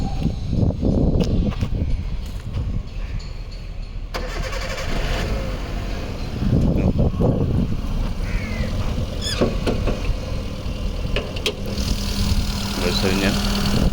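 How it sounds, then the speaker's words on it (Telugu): A 2011 Hyundai Santro Xing GLS running on petrol and LPG idles steadily nearby, its low engine hum continuous throughout, with a person speaking over it and some handling noises. "సౌండ్ ఎట్లా ఉందో ఇంజన్ సౌండ్ ఎలా ఉంటుంది అన్నీ ఎక్స్ప్లెయిన్ చేస్తాను."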